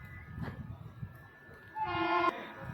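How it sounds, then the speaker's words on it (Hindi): A train pulls into Dildarnagar railway station in Ghazipur district: a steady rumble of the approaching train, then a loud, sustained horn blast sounds near the end. "ये गाड़ी आ रही है"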